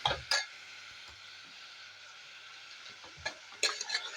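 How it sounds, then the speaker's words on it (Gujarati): Peanut and brinjal sabji is stirred in a pan over a steady, faint sizzle, with a few loud scraping strokes at the start and a cluster of them near the end. "પછી એને મસ્ત રીતે હલાવી દેવાનું છે આ રીતે"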